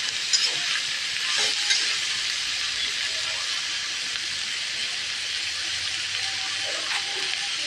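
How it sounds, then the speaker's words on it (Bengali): Dhenki greens with turmeric, stirred into a grain batter in a hot pan, making a continuous hissing sizzle with a few faint scraping strokes early on, close and steady throughout. "দেখো সুন্দর করে কিন্তু আমি ঘেটে দিচ্ছি কিন্তু"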